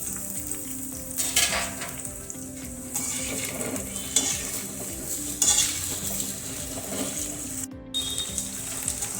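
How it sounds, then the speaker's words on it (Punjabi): Okra, beans and onion frying together in oil for a mixed vegetable dish, a continuous bubbling sizzle with periodic scraping and clanking of a spoon stirring in the pan. "ਹੁਣ ਅਸੀਂ ਆ ਸਾਰੀਆਂ ਸਬਜ਼ੀਆਂ ਨੂੰ ਇੱਕੋ ਵਾਰੀ ਫਰਾਈ ਕਰ ਲਵਾਂਗੇ"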